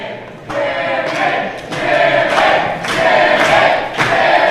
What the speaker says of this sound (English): Crowd now chanting for Jimmy the Hippie, trying to give him all the support they can.